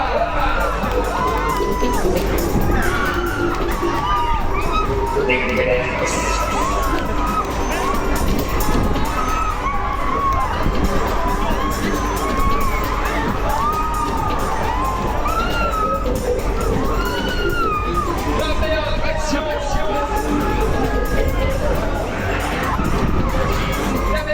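Riders on a Deca Dance fairground ride at the Liège October fair shout, whoop and cheer continuously as a loud crowd, with children's voices and ride noise blending into a dense, sustained roar throughout.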